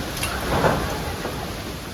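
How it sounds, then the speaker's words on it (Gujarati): Heavy rain pouring outdoors, a dense steady roar of drops with a brief low swell early on, loud and close with no talk. "ત્યાં વરસાદ ફૂલે ફૂલ શરૂ થઈ ગયો"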